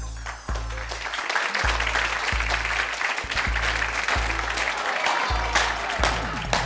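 Studio audience applause for a talk show guest, sustained loud clapping from a crowd that continues throughout, with bursts of cheering mixed in.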